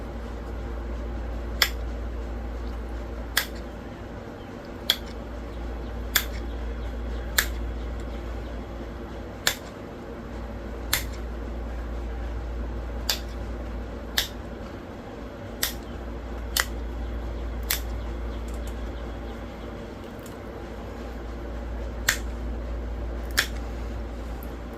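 A stone Gary arrowhead is being cleaned up by flintknapping, giving sharp, isolated snapping clicks every second or two over a steady low hum in a quiet setting.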